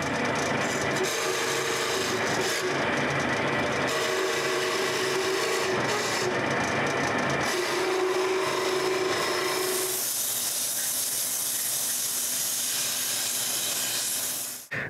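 A lathe duplicator cuts a hardwood log, with gritty scraping and rasping in uneven bursts, then a steady bright hiss in the second half, loud and close with no talk.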